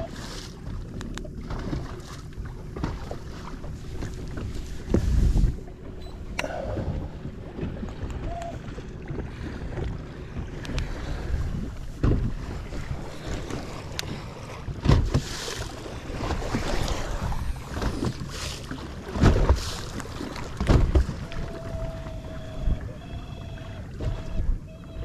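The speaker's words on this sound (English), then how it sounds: "Wind's starting to drop off now, which is good." Wind gusting across a small fishing boat on Moreton Bay, a steady rushing hiss with water lapping and occasional louder thumps and knocks against the hull, no talking.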